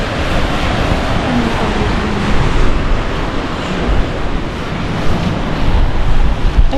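Ocean waves at Big Sur surging and washing in a constant loud roar, heavily mixed with wind buffeting a nearby microphone.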